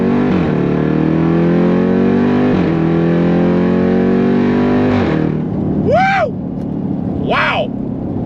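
A 707-horsepower Jeep Grand Cherokee Trackhawk launching in track mode, its supercharged engine roaring loudly and climbing through several gears over five seconds before two brief shifts or pops and a quieter idle.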